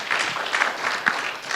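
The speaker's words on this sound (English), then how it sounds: "Round of applause for JJ." Brief, modest applause from a conference audience at an operational excellence exchange, scattered claps with a few sharper individual hits over a short burst.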